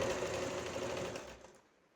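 A sewing machine stitching a 10-to-12-year-old girl's co-ord set runs in a steady, fast, close-up whir, then slows and fades out over the last half second.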